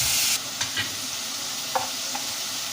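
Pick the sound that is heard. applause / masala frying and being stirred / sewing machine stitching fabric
masala frying and being stirred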